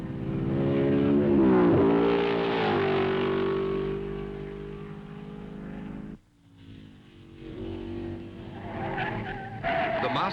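1950s Formula One race cars on the tree-lined Spa circuit in the Belgian Grand Prix, engines loud and close with rising and falling pitch as they rush by, a sudden drop in sound, then another car roaring past.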